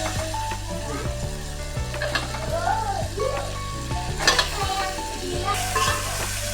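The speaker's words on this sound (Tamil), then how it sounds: "மீன் சேர்த்தாச்சுங்க." Tilapia frying in masala for a village-style fish curry, a steady close sizzle with stirring scrapes and some pan clatter, no talk.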